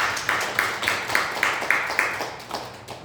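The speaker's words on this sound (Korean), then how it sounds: "박수 한번 올려드리겠습니다" A church congregation claps in a steady, even rhythm, roughly ten sharp claps about a quarter second apart, moderately loud inside the worship hall before fading out.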